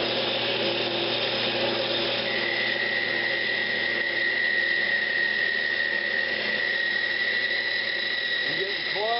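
A wood lathe spins while a parting tool cuts a small turned pipe bowl cleaner down to three-quarter-inch diameter, giving a continuous steady whirring and scraping drone that stays fairly loud and even throughout.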